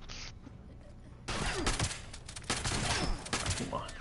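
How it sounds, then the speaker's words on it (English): Pipe pistol gunfire in the video game Fallout 76, bursts of rapid shots in dense clusters after a quieter opening, loud and close, with a voice talking over parts of it. "He pulled out a pipe pistol,"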